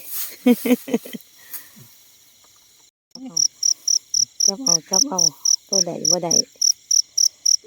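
Rapid, regular mole cricket chirps pulse steadily in close range at night, high-pitched and loud, while someone speaks over them.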